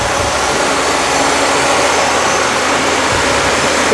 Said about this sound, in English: The fan is running right now. It's pulling in air just like it should.